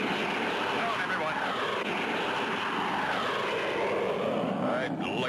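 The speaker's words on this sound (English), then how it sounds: "the black jet suddenly dove at them" Cartoon black jet plane diving overhead, its engine a steady loud roar that swells and sweeps in pitch near the end, with voices talking over it.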